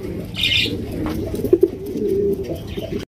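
Pure white Beauty pigeons coo in a loft among other birds, a low continuous throaty murmur with a couple of brief accented notes and a faint higher chirp early on, close by and moderately loud.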